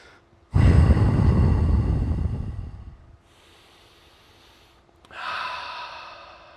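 Deep breathing during a yoga-style ski strength and balance exercise: one long, loud exhale that gradually fades, a quiet pause, then a shorter breath, all close up with no talking.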